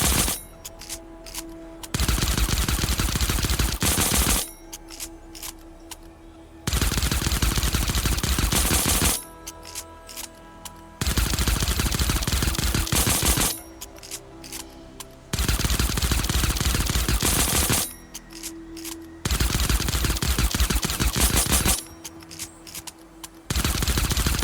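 Suppressed pistol firing repeatedly in Fortnite, with dense bursts of shots in rapid runs separated by short lulls, loud and close throughout.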